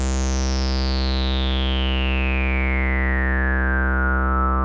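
Behringer 2600 synthesizer tone shaped by its VCA and AR envelope with sustain held: a steady, buzzy harmonic drone with a bright sweeping overtone that glides downward throughout, loud and alone.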